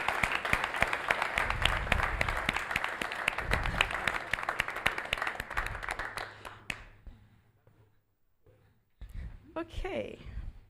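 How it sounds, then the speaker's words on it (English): Audience applause after a prize presentation at a machine learning conference's closing remarks, a dense steady clapping that builds loud and then fades out, with a voice speaking near the end. "And a big applause for James."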